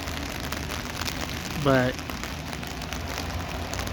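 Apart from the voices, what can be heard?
rain falling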